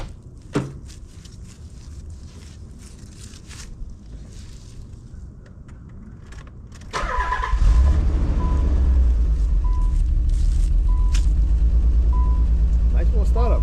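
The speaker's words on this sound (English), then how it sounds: "Nice little startup, right? That's a cold start, y'all." A Nissan 300ZX cranks and catches on a cold start after some rustling and footsteps, then settles into a loud, steady, deep idle close by while someone talks over it.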